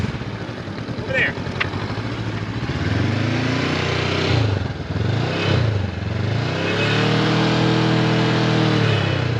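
A motorcycle engine revs and pulls away during a police-run riding lesson, a loud rising and falling drone that climbs in pitch, with a brief clatter near the start.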